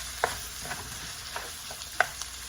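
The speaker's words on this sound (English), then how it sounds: "So we're going to start stirring it." Shrimp and chicken fried rice being stirred in a pan, a soft sizzle under a few sharp scrapes and clinks of the utensil against the pan.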